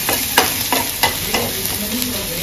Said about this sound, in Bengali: এখন দিয়ে দেবো রসুন। ভালো করে ভাজে নেব যাতে রসুনের কাঁচা গিরানটা যেন চলে যায়।